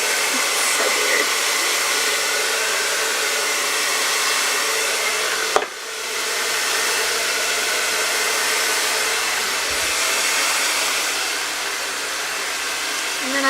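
A hair dryer blows steadily on hair at close range, a loud continuous airy whoosh with one brief dip partway through as the airflow shifts.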